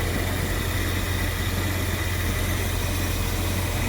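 A car engine idles steadily right after a new radiator install with the flexi hose removed, a close, continuous low rumble and hum with no breaks and no talking.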